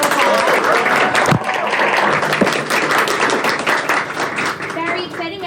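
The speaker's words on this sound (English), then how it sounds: "We'll give her an early round of applause." A library audience claps for author Joyce Maynard at an in-person evening event, dense applause from a roomful of people, loud and sustained throughout with a few sharper claps and faint voices mixed in.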